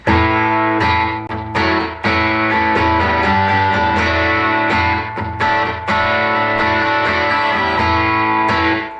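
An electric guitar plays chords and short riffs through a Timmy overdrive pedal, mild, warm and slightly gritty, loud and close with no talking.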